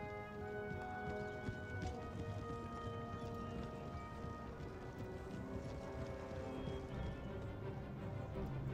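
Horses of heavy horse guard artillery in the Empire: Total War battle game, with a steady clip-clop of hooves and an occasional whinny under a continuous wash of battle noise and music.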